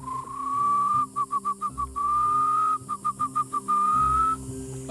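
A guide in the Ecuadorian Amazon rainforest whistles to imitate and call animals: long rising tones alternating with quick bursts of short chirped notes, clear and close in a quiet setting, mimicking animal calls.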